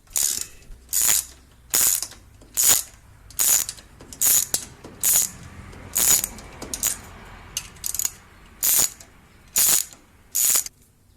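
Ratchet wrench backing out bolts on a John Deere D110 riding mower, giving a steady, evenly paced series of about a dozen sharp, close clicking bursts with no voices.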